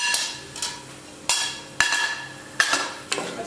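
A spoon scrapes and knocks in a pan while stirring cinnamon, mace and cloves in oil with popped mustard seeds for Kerala-style egg roast, several sharp metallic clinks at irregular intervals over a soft sizzle.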